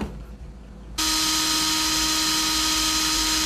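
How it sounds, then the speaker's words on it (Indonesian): A Nagawa hammer drill switches on abruptly after a second of low background noise, then runs at full speed with a loud, steady high-pitched whine and motor hum to the end. "Kemudian hammer drill kedua"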